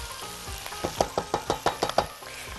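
Tomato paste sizzling with minced meat in a hot pan, a steady fry broken by about eight quick stirring scrapes, close and moderately loud.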